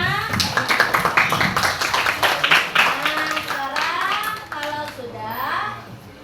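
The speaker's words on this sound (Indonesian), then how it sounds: "tepuk tangan buat kita semua" Twelfth-grade students in a mathematics classroom clap hands in a brisk run of claps lasting a few seconds, mixed with students talking before voices take over.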